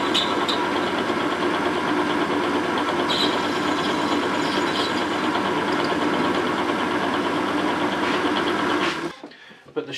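Lathe cutting a shoulder into a metal part for a bow thruster build, a steady whirring drone with faint scraping that holds for nine seconds, then cuts off abruptly.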